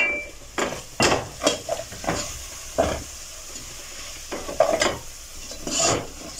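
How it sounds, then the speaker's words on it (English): Tripe (matumbo) with spices is stirred in a pan, with irregular scraping and clinking strokes of a utensil against the pan over a soft sizzle, close and distinct. "so we mix this until it is well combined."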